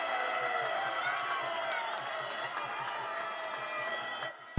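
Cricket fans at a six-a-side league match in Kabul cheer and shout steadily as a dense, continuous crowd roar, with faint applause mixed in for several seconds.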